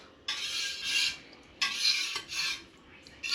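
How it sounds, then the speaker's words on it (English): Whisk scraping and swishing in rhythmic strokes through a cheese curd mass at the bottom of a deep pot, several raspy bursts in quick succession, close and fairly quiet. "take my whisk and plunge it down to the bottom, all around this curd mass"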